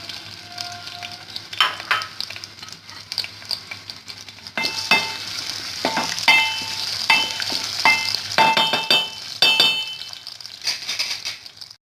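Onions frying in cooking oil for a green-masala mutton keema, a steady close sizzle broken by clinks and scrapes of a utensil against the pan, with no talk.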